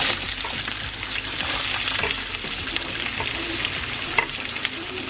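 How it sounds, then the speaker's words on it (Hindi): Mustard seeds, chana dal and white urad dal frying in oil for upma, a dense continuous sizzle with faint crackles and stirring scrapes, close and steady, no talking. "अब इसको हम चटकने का वेट करेंगे। सरसों चटकने के बाद हमने डाली है चने की दाल।"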